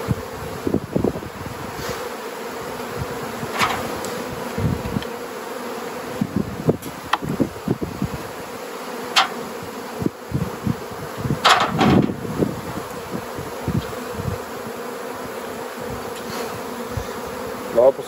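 Honeybees at an open two-queen hive fill the air with a steady, close droning buzz, individual bees zipping past the microphone now and then amid the constant hum.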